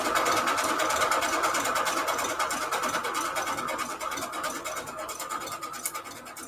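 A sewing machine runs fast, stitching a fancy decorative stitch on fabric scraps for index cards, a dense rapid clatter that is steady and close, easing slightly in loudness toward the end.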